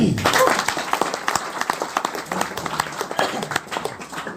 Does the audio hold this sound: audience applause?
yes